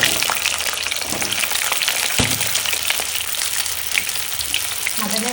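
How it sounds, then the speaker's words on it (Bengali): Potatoes for a mutton curry fry noisily in a pan, a loud crackling sizzle that runs unbroken for several seconds, with scattered spitting pops and one sharp clatter partway through; nobody speaks. "আলুগুলো আগে লাল লাল করে ভেজে নিই।"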